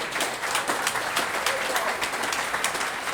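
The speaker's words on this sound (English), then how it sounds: "give yourselves a round of applause" A crowd applauds at a public announcement event about Frontier League baseball coming to Kinston, with continuous dense clapping at even loudness throughout.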